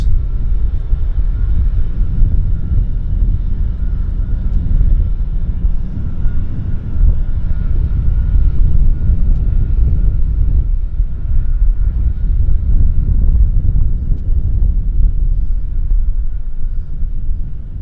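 A jet airliner touching down at Vancouver Airport, heard as a steady deep roar with heavy low rumble and gusting wind buffeting the microphone, constant and loud from start to finish.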